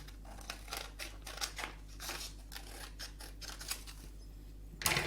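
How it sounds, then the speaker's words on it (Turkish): Scissors snip through paper in a quick series of crisp cuts, close and clear, followed by a brief rustle at the end. "Burada kalan dikdörtgen parçayı makas yardımıyla kesiyorum."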